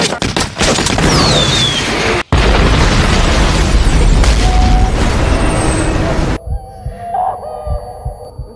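Heavy booms and bursts of rapid gunfire roar loudly in chaotic waves, cut off abruptly, followed by quieter scattered pops and a voice.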